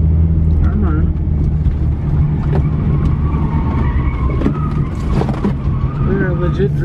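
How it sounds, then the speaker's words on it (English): A small, lightweight red car drifts with tires squealing in several short bursts over a constant engine drone inside the cabin, while people talk. "We're legit drifting."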